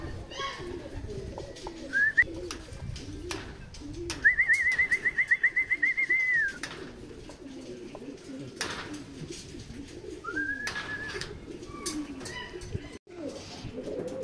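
Racing pigeons coo in a loft during a derby race in San Narciso, Quezon: a short call, then a longer rolling coo, then another brief one, over outdoor background noise with people talking.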